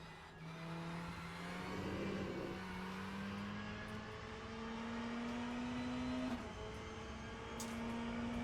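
A race car engine in the Le Mans Ultimate sim hums at a steady high pitch, then rises gradually through the gears in a smooth continuous tone, faint and alone without speech.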